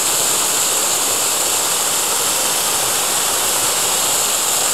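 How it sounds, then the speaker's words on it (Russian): Small waterfall spilling beside a turning water mill wheel at a watermill in Oboyan, Kursk region, Russia, a steady loud broadband rush of falling water with no distinct beats. "Видите, такой водопадик. Вот это колесо. Это колесо крутится."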